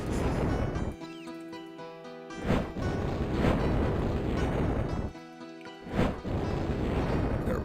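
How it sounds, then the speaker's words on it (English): Fireball spells exploding in Siege of Avalon: a roaring, eruption-like blast recurs in surges with short bright bursts between, and fainter tonal game sounds underneath. "slay some more skeletons with our fireballs of fury"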